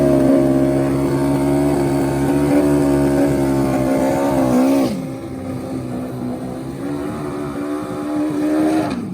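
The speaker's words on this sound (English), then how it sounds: "It is time for some NHDRO motorcycle drag racing." Turbo Hayabusa street motorcycles at an NHDRO drag race hold a loud, high-pitched engine drone that suddenly drops, then builds again, strained and near.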